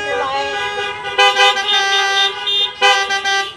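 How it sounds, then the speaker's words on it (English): Several car horns honking together at an outdoor drive-in Sunday worship service, loud overlapping toots repeating in bursts with a voice speaking among them. "Honk your horns, turn on your"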